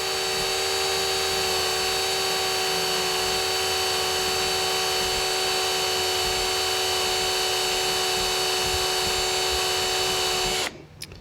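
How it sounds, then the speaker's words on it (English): A power drill running continuously at a steady high whine, boring with a drill bit toward wood in a model railroad workshop, close and loud until it cuts off abruptly near the end. "So now I'm going to try and stop this drill bit before I get to the wood."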